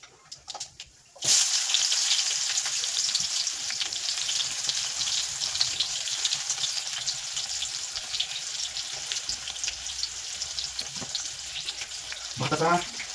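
Cumin and mustard seeds hitting hot oil for tempering: after a brief quiet start, a sudden burst of loud crackling sizzle that continues steadily with scattered pops and spits, close, with no voices.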